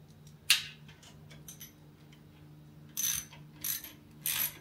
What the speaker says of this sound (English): with a ratchet first.